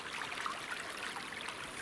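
Water rushes and gurgles steadily in a continuous broadband wash, a flowing stream heard close by with no voices.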